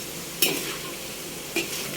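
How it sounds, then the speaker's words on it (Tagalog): French fries sizzle and hiss steadily in hot oil, with two brief scraping stirs of a utensil against the pan, close up. "Prito tayo ng French fries."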